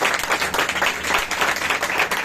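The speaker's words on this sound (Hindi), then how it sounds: "बंदे के लिए मत बजाओ ताली, लेकिन अपने और मेरे यीशु के लिए बजाओ" Congregation applauding at a Christian church gathering, a steady dense patter of many hands clapping, close and continuous with no talk over it.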